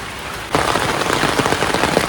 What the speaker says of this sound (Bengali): বৃষ্টি কিছুতেই কমছে না